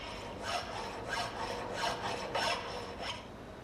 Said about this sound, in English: Filing this piece of mild steel removes a lot of material with each stroke.